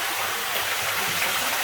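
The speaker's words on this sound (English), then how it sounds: "But this waterfall, man, just imagine how cool this would be in your house." Waterfall pouring inside a cave, a steady broadband rush of falling water that fills the space continuously without pause, close and fairly loud.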